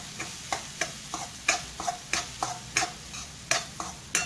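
Broccoli with coriander powder, amchur and turmeric being stirred in a pan, a spatula scraping and tapping in a fairly regular rhythm over a soft sizzle, close up with no talking.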